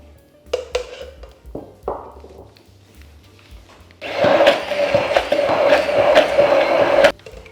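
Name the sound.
blender pureeing frozen strawberries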